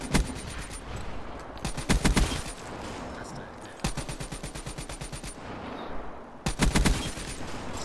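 Video game gunfire from a BRM rifle on the Redwood map, loud rapid volleys in several separated bursts with quieter gaps between them.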